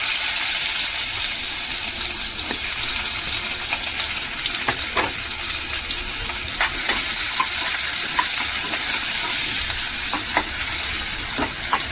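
Onions sizzling loudly in hot oil left from deep-frying chicken for chicken fry piece biryani, a steady dense crackle with occasional stirring clicks, close and continuous, no talking.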